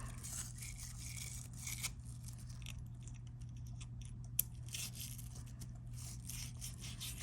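Brushes scrub the disassembled parts of a Perlick beer faucet after a caustic soak, producing continuous rapid bristle rubbing with bursts of scraping, close up over a steady low hum, with a brief sharp click near the middle.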